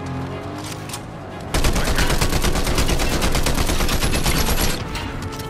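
Sustained automatic gunfire rattles in Fortnite: a dense, loud burst of rapid shots that starts suddenly and runs for several seconds before easing, with faint scattered shots around it.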